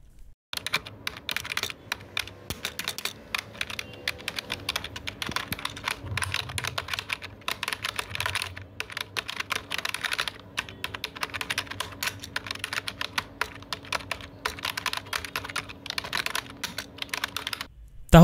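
Someone types an IELTS writing introduction on a computer keyboard. Dense, steady clicking keystrokes run nearly nonstop at close range, with occasional louder taps and no speech.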